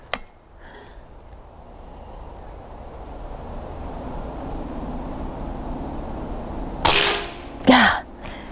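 A Kral Arms Puncher Breaker Silent Marine .25 caliber PCP air rifle fires two muffled, short shots close together near the end, after a quiet outdoor stretch with one faint pop at the start.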